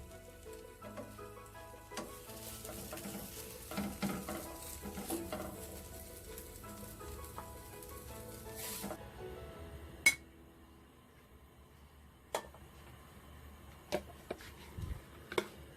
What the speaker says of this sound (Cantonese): 煎到佢兩面金黃就 OK 嘅啦